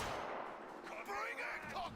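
A gunshot fired in the video game Cyberpunk 2077 rings out in a short burst. Voices are heard around it.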